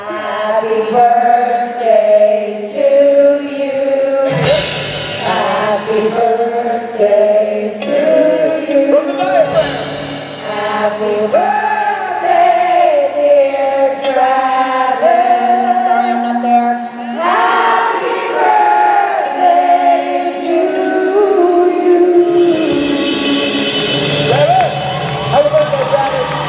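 A crowd at a Supernatural fan convention panel sings Happy Birthday together over an accompanying guitar, a loud sustained chorus of many voices with scattered whoops and cheers throughout.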